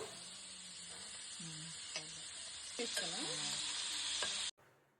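Tomatoes and green chilies frying in hot oil for tomato pachadi, a loud continuous sizzle with a spoon scraping and stirring against the pan, close by, cutting off abruptly near the end.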